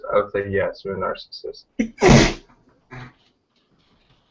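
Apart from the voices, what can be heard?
sneeze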